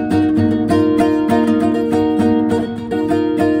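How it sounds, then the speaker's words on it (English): Electric guitar repeating the main riff of a song, with steady rhythmic plucked chord strikes that loop evenly throughout, loud and close, with no voices. "but that's the main riff."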